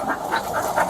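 A dog pants rapidly and close by, with rhythmic breathy huffs repeating several times in under a second.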